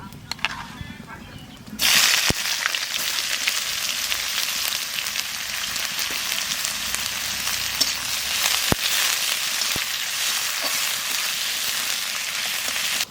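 Onions hit hot oil already seasoned with cumin seeds and bay leaves and break into a loud, steady sizzle, the frying hiss surging up suddenly and holding strong and close to the end, with a few faint clicks on top.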